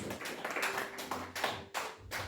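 A church congregation claps in a quick uneven rhythm of sharp close slaps, with a faint sustained tone underneath and no clear speech.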